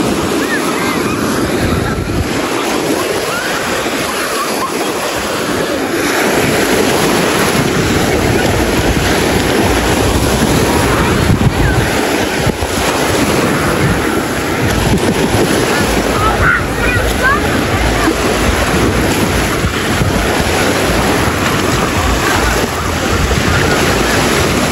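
Sea waves breaking on the sandy beach at Thuan An, Hue, a loud continuous roar of surf buffeted by heavy wind noise, with a voice talking briefly in places.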